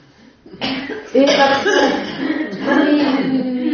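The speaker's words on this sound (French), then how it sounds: "Allez, toussez les filles, allez-y." Several women cough together, a rough, overlapping burst of coughs and throat clearing that carries on for a few seconds, close and loud.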